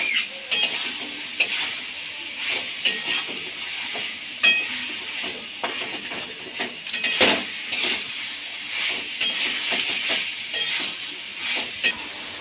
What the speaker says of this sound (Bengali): এবার আমি ভেজে রাখা পটল আর আলু দিয়ে দেব। এবার একটু কষিয়ে নেব।